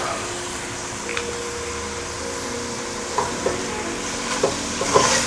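Beef stir-fried with vegetables such as zucchini sizzles steadily in a pan, with a constant hiss and several sharp clinks and scrapes of utensils toward the end.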